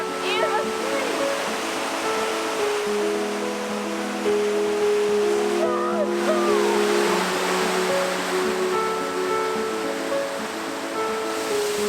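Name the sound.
waterfall in the Catlins, New Zealand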